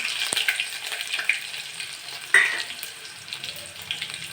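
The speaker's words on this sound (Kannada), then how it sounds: "ಸಾಸಿವೆ ಸಿಡತಾ ಇದೆ ಈಗ ಇದರಲ್ಲಿ ಸ್ವಲ್ಪ ಸ್ವಲ್ಪ ಕರ್ಕು ಹಾಕ್ತಿವಿ" Mustard seeds splutter and crackle in hot oil with sharp pops, then curry leaves drop in and set off a louder burst of sizzling that settles into a steady fry, close and with no talking.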